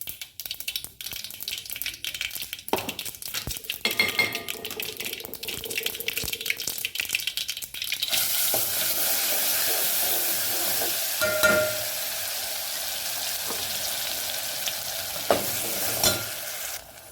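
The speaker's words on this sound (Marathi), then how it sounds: "आता हे हा काय ग्राइंड केलेलं मिश्रण आता ह्याच्यात टाकून द्यायचं." Ground masala paste goes into a hot pan on low gas for an Indian pulao, with scraping and stirring that breaks into a loud, continuous close sizzle, spiked by a few sharper crackles.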